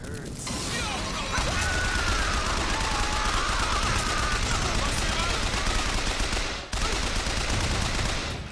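Gunfire in the video game Bioshock Infinite, continuous bursts of shots and mechanical clatter under the game's action sounds, loud and steady with a momentary break near the end.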